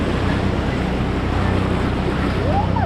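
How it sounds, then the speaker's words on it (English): Ocean surf washes up at Cardiff State Beach as a steady, loud broadband rush with wind buffeting the microphone, continuous and close, with no clear speech. "There comes the water."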